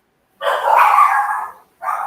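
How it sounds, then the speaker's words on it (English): A dog barks nearby, one drawn-out bark followed by a shorter second one after a brief pause. "Sorry about my dog."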